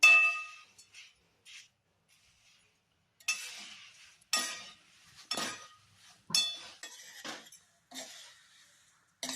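Flattened rice (poha) dry-roasting over a low flame in a pan, stirred in irregular bursts of light scraping, clinking strokes against the metal with quiet pauses between, close and fairly soft, no voices.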